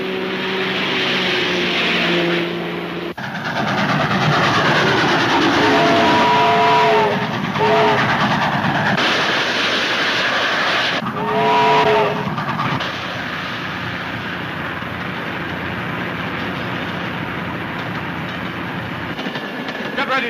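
Train running steadily in an old radio serial, a continuous rumbling roll with clickety-clack under the scene and brief whistle-like tones partway through, while voices speak over it.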